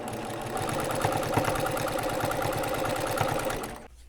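A sewing machine chain-pieces quilt sashing strips to sashing posts, right sides together. A fast, steady mechanical whirr of close needle strokes runs for about four seconds, then stops abruptly. No voices.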